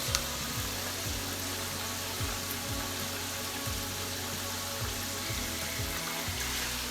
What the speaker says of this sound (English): So this is 1 cup, guys. I'm going to pour it inside my pot